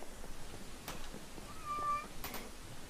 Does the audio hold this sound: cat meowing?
yes